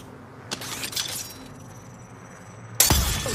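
Enemy shield cracking in the Apex Legends video game: a sharp glassy shatter bursts in loudly near the end, after a couple of softer impact clicks over low game ambience.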